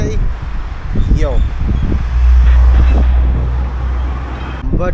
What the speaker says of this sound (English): It's windy, I know, I'm sorry.